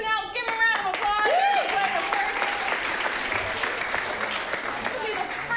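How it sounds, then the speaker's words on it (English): A game-show audience breaks into applause, a dense wash of clapping that carries on steadily throughout, with voices and a child's speech mixed in underneath. "Let's give them a round of applause."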